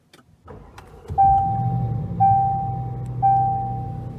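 A 2019 Range Rover Sport Autobiography Dynamic engine turns over and settles into a low, steady idle, with three bright electronic chimes repeating at even intervals.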